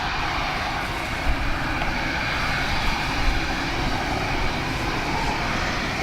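An Embraer E195-E2 jet passes at Dublin Airport in windy, wet weather, its engine noise a steady, fairly loud broadband roar with a few brief gusty bumps, no voices present.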